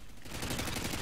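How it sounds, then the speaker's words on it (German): Rapid automatic gunfire from a Modern Warfare 2 Xbox 360 match on the Karachi map, a short dense burst of shots that fills the whole moment at close range, with no speech over it. "Hast du den geschossen?"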